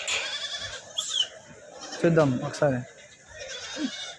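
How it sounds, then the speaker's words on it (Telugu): Goats bleat amid the bustle of the Kadiri livestock market, several wavering cries rising over crowd noise while someone speaks nearby. "ఇక్కడ మేకలు ఉన్నాయి"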